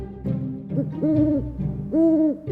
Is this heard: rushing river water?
no